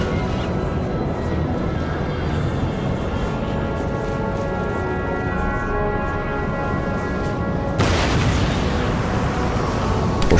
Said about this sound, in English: move up my troops to engage the enemy and hopefully stop the artillery bombardment